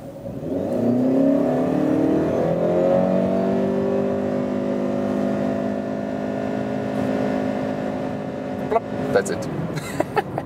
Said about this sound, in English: let's just accelerate out from zero